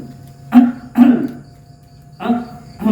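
A man clears his throat with short 'ahem' sounds, four brief voiced bursts spaced unevenly, close and moderately loud in a quiet room with a faint steady hum behind.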